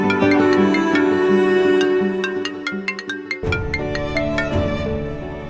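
A phone ringtone plays loud and close, a bright melodic chime pattern of repeating plucked notes that pauses briefly and then resumes.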